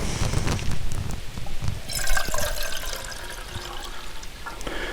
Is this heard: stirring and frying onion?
no